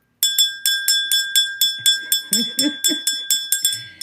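A small bell rung rapidly and repeatedly in an even rhythm, bright and close, with a voice murmuring faintly underneath.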